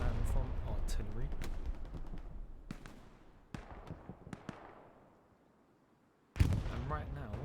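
Artillery fire in a multiplayer Utah Beach match, dense thudding blasts and sharp cracks rolling under a commentator's voice, fading to near quiet before a loud fresh impact near the end.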